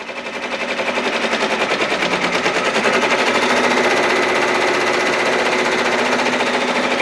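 Baby Lock Venture 10-needle embroidery machine stitching at speed gives a loud, close, rapid mechanical rattle of needle strokes. It builds up in the first second and then holds a constant fast rhythm throughout with no voices.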